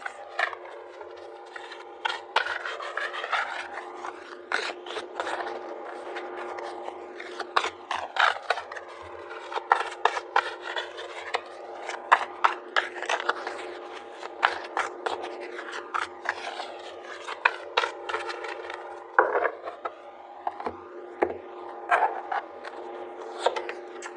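Tarot cards being shuffled and pulled from a deck, a steady papery rubbing and riffling with frequent sharp card snaps and flicks throughout, close and fairly quiet, with no talking.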